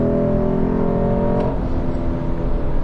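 A V8 sedan engine revs loudly nearby, holding a throaty harmonic growl before dropping into a rough, rumbling idle.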